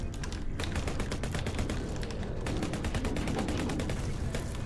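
Automated turret in the sci-fi survival game Genesis: Alpha One firing rapid bursts of gunfire, a fast rattling stream of shots with a short pause partway through, loud and continuous, with no talking.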